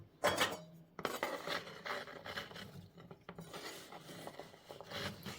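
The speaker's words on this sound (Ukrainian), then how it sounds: "І гарно-гарно перемішуємо, щоб кожний кусочок яблучка обволівся тістом" Sliced apple pieces get stirred into cake batter in a bowl, giving quiet scraping and soft wet knocks of a spoon against the bowl in an uneven rhythm, close and low in level.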